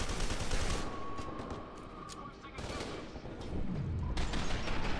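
Assault rifle fire from the F.E.A.R. 2 shooter game rattles in dense bursts nearly throughout, loud and close, dipping briefly mid-way before resuming hard; a voice talks over part of it.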